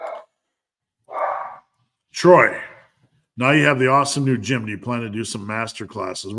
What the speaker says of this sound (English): And sorry about the dog noise.